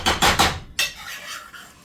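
Rice being stirred in a pan to toast it, heard close up as three quick metallic scrapes of a utensil against the pan, a short pause, then one sharper scrape trailing into softer scraping.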